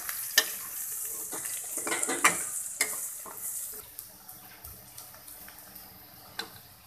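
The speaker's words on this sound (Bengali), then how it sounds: "এখন এই আদা রসুনটাকে ভালো করে কষিয়ে নিব" Ginger garlic paste, three tablespoons, sizzles and fries in a hot pan while a spoon stirs and scrapes it, with steady close crackling and irregular clicks of the utensil against the metal.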